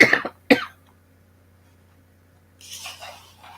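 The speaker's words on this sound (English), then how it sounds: "Sorry, still have this cough." A person coughs twice in quick succession, close and fairly loud, then falls silent for a couple of seconds before a soft rustling noise rises near the end.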